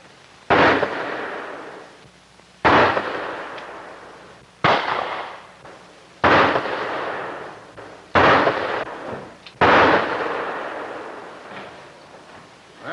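Six loud pistol gunshots ring out at shooting practice, spaced about one and a half to two seconds apart, each a sharp crack followed by a long reverberant decay, with no talking between them.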